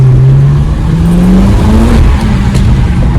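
BMW 335i stage 1 with about 400 hp accelerating hard, its engine note climbing steadily in pitch through the revs with a loud, close, rising growl and a brief dip near a gear change, with no talking.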